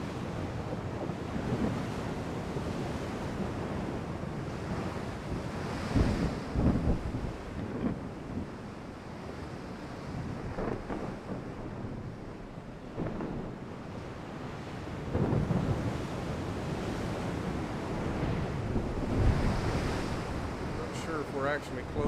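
Stormy sea in the naval game Ultimate Admiral Dreadnoughts: constant roaring wind and crashing ocean waves with deep rumbling swells, steady and full throughout.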